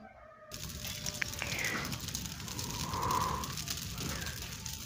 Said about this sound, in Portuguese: É hora de tacar fogo nisso.